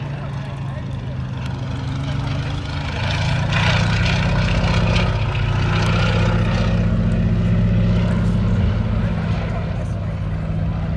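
A Swordfish biplane flies past low at a D-Day anniversary airshow, its propeller engine a loud, throbbing drone that grows stronger and holds steady, with a commentator talking over it.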